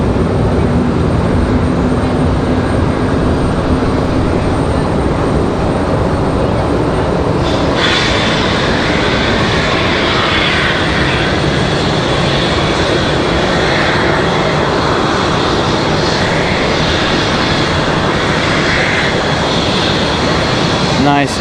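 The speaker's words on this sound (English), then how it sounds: "Nice gentle touchdown for the A321." American Airlines Airbus A321 arriving at Raleigh-Durham airport, a loud continuous engine roar that shifts and brightens partway through as it touches down, with no voices.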